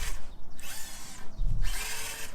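A brushless Furitek CR18P RC crawler motor whirs in two bursts of high-pitched electric whine, with a low thump around the second run, during a torque twist test on an indoor course.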